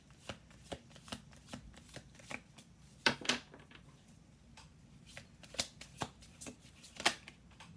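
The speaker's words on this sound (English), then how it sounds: "We're going to do 2 more shuffles." A deck of cards is shuffled close up, soft riffling flicks and taps in quick irregular bursts, quiet with no talking.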